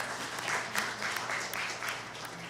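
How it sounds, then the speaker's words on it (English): A congregation at a Shabbat evening service applauds an honoured guest, a soft, even spatter of clapping from a room full of people, heard at some distance. "we should applaud her"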